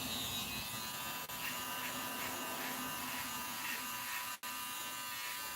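An Andis Slimline Pro electric beard trimmer runs in a steady, close, continuous buzz, briefly cutting out twice for a moment.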